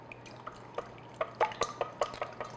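A whisk stirs two large room-temperature eggs in a bowl, producing soft, irregular wet clicks and light taps against the bowl, faint and close.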